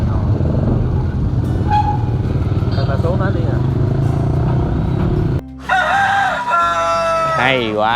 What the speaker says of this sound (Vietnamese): vừa đúng lúc có tiếng gà gáy luôn cả nhà ơi